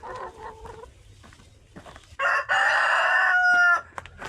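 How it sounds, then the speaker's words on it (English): Backyard chickens kept in a coop on a Serbian farm give soft, scattered clucks, then one bird lets out a loud, drawn-out crowing call. "And these are your chickens."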